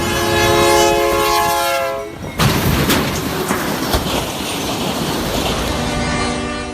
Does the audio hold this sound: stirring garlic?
no